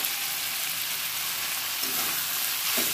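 Fried mixed vegetables tipped into cooked spice masala in oil, a loud close sizzle that hisses continuously, with stirring knocks toward the end.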